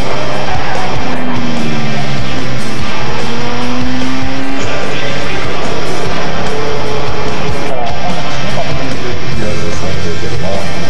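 Renault race car built to 1978 specification at the Le Mans Classic 2006, engine roaring loud and continuous with rising and falling revs and tyre squeal, very close and saturated.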